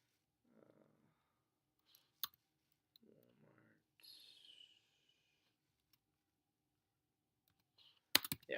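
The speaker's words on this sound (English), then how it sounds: "So you just type in Walmart." Sparse keyboard clicks and a few isolated taps sound close and faint in a quiet room, broken by brief bursts of speech and a louder knock at the end.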